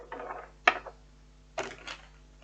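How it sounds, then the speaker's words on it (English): Tarot cards are shuffled close up in a quiet room, with a few soft papery riffles and two crisp snapping bursts of cards slapping together. "One more shuffle."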